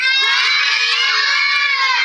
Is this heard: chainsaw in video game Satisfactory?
no